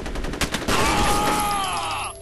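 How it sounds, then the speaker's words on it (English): Shotgun blasts in the video game F.E.A.R., a loud burst of gunfire followed by a sustained roaring blast with a ringing tone that slowly fades, close and dominant. "you shot at me with a shotgun"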